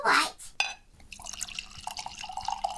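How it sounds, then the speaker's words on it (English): Orange juice trickles into a glass with a soft, close pour, preceded by a brief clink, quiet and alone. "Now, pour me a glass of orange juice."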